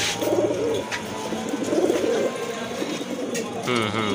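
Large pigeons at a seller's loft coo in repeated low, throaty phrases, fairly close and steady across the whole stretch, with some faint background noise.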